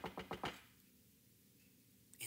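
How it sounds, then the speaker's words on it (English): Four sharp knocks on a wooden hut door in a spoken children's story, evenly spaced and fairly close, followed by quiet room tone with no talking. "well, I guess they knocked at the door."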